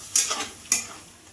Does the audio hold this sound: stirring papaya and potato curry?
yes